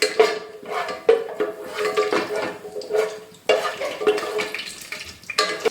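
Whole cardamom, cloves and cinnamon stirred in a pan, with metal utensils clanking against the pot in irregular knocks and scrapes, close and fairly loud, over a faint sizzle.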